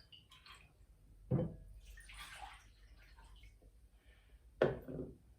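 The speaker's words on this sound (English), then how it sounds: "So I'm just going to fill up these bowls with water." Water is poured to fill bowls, a continuous close trickle and splash with two sharper, louder pours partway through, and no talking.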